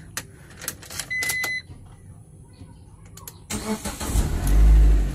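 Car engine cranking and catching near the end after a quiet stretch with a few beeps and clicks, then settling into a loud close idle rumble.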